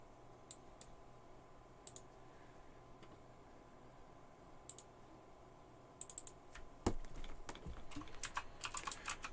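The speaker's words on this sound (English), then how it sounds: "You can't see what I'm typing" A computer keyboard clicks in scattered bursts of keystrokes, faint at first and then quicker and louder toward the end, with no talk over it.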